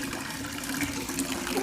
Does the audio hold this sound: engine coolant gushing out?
yes